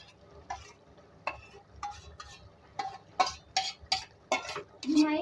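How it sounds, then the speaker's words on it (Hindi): Beef stew with a few spoonfuls of yogurt is fried and stirred in a pot, with a quiet sizzle under irregular scraping and clinking strokes of a spoon against the metal that grow louder toward the end. "भुनाई करेंगे अच्छी तरीके से।"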